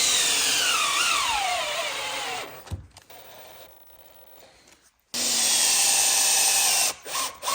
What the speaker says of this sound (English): Final screws, and I'll probably use like a 6 mil screw